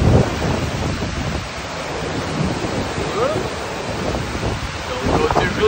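A waterfall rushes outdoors in the Scottish Highlands between Glenfeshie and Braemar, a steady broad roar of falling water with wind buffeting the microphone throughout, loud and close.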